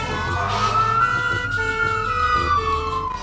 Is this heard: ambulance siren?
yes